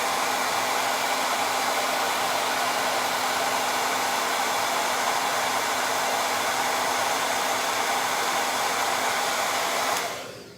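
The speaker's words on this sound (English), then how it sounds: "See, my hair dryer is really loud" A loud hair dryer blows hair dry, a constant close whooshing roar with a steady motor whine that runs unbroken before cutting off abruptly near the end.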